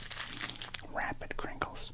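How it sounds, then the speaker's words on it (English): Plastic packaging on baseball cards is crinkled rapidly and very close, a busy burst of crackles and crunches with soft whispering mixed in. "Do some fast crinkles for you."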